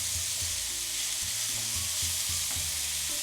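Rice pilaf with artichokes sautéing in a hot pot, a continuous close sizzle and crackle with a few low stirring knocks, no voices.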